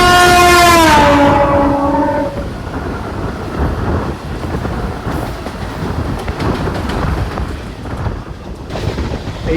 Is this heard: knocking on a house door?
no